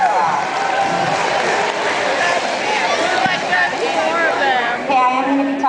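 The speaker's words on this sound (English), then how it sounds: "Give yourself a round of applause." Sixth graders in a school gym give themselves a round of applause, a loud crowd roar of cheering and clapping with voices shouting over it throughout.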